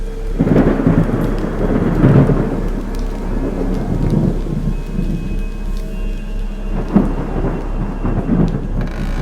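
Heavy rain pours steadily while deep rumbles of thunder roll through in several waves, loud and close, with no talking.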